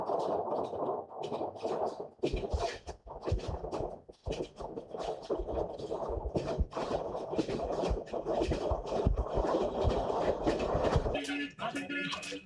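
A passenger train on the Beijing to Zhengzhou line in China, 1999, rumbles along the rails with a steady clatter and intermittent clicks and squeals, loud and continuous throughout.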